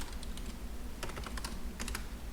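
Fast typing on a computer keyboard while entering a formula in an Excel spreadsheet: close, crisp key clicks in quick bursts over low background hum, with no voices.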